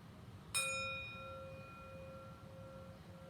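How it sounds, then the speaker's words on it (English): A meditation bell is struck once to open a yoga and meditation class, ringing out with a sharp attack and a long, clear, sustained tone that slowly fades over a soft room hum. "Just ring the bell to signal that we are about to begin meditation."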